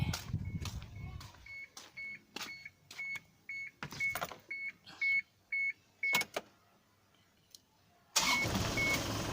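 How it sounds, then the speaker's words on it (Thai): An Isuzu car that had stayed silent at the turn of the key gives a run of clicks and short beeps, then its engine catches and settles into a steady nearby running sound. "นี่นะครับรถสตาร์ทติดปกติแล้วนะครับ"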